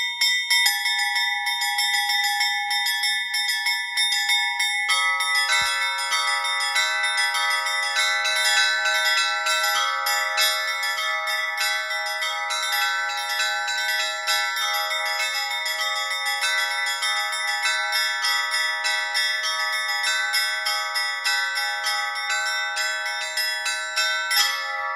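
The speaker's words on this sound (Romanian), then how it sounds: "Tonalitatea și frumusețea le dau aceste clopote tenore, care sunt practic obligatorii în fiecare biserică." Church bells ringing at Durău Monastery, including tenor bells, a dense, continuous peal of many overlapping bells sounding together and growing fuller after a few seconds, loud and sustained throughout.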